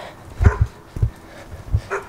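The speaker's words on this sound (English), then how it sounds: "Loud dog, loud dog." A dog barks loudly and close by in a quiet neighborhood, giving a few deep, separate woofs in an uneven rhythm.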